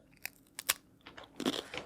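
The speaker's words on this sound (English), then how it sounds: "I'm going to do a crunch test." Snack chips bitten and chewed up close, a quick series of sharp, dry crunches at irregular intervals, fairly quiet with nothing else around them.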